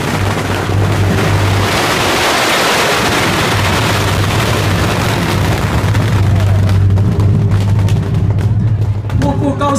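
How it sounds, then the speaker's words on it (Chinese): Firecrackers go off at a Mazu temple anniversary procession festival, a loud dense continuous barrage of bangs and crackling that fades toward the end. "鞭炮"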